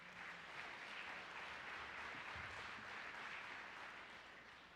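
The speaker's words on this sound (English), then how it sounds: "So how about a round of applause for our parents and family members?" A crowd at a school principal's reception applauds parents and family members, a steady dense clapping that holds evenly for several seconds and fades slightly at the end, with no voices over it.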